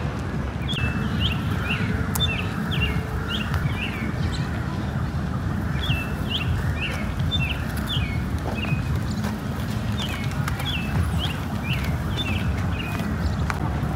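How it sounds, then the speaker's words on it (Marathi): Birds in Lumphini Park, Bangkok, give short repeated calls in quick bursts, recurring throughout over a steady wash of background noise. "इथे आहे ना पक्षी खूप आहेत, म्हणजे विविध तरीकेचे पक्षी आहेत."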